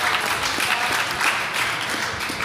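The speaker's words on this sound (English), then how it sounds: "Get a round of applause." At the F1 in Schools World Finals at Silverstone, a crowd claps loudly and continuously in a thick, even wash of applause.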